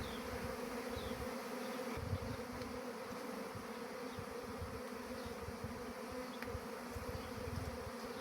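A honeybee swarm hums steadily and densely while it is being captured by a beekeeper, a continuous loud buzz that persists unbroken for the whole stretch.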